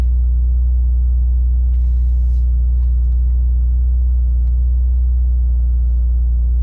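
A Toyota GR Corolla's engine idles in sport mode with a loud, deep, steady rumble heard close by and unchanging throughout.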